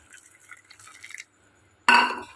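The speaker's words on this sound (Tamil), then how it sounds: "அதில் வந்து சுடுதண்ணி ஊற்றிக்கலாம்." Hot water is poured over dried red chillies in a bowl, starting with light scattered clinks and a quiet trickle, then after a pause a sudden loud gushing pour close by.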